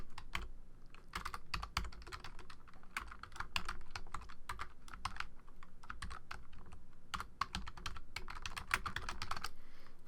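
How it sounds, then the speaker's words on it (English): Dense, rapid clatter of keys comes from someone typing steadily on a nearby computer keyboard, with brief pauses between bursts and no talking. "Let's type in Chinese Navy Photoshop fail."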